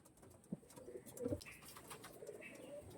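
Pair of Chennai breed pigeons cooing faintly in a quiet room, soft low coos rising and falling over a few seconds with light background rustle.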